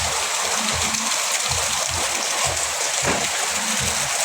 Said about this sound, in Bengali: এই দেখুন কি বৃষ্টি হচ্ছে সামনের বাড়িটাতে জল পড়ছে খুব